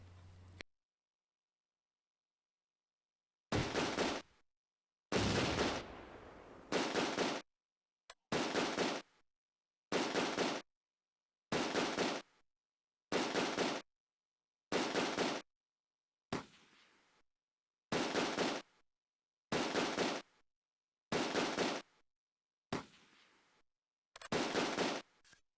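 Gunfire from an ad hoc rifle team in the WWII wargame Close Combat: A Bridge Too Far, set during Operation Market Garden, comes as a dozen loud, separate bursts of shots spaced at fairly regular intervals after a short silence.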